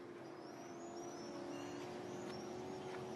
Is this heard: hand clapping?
no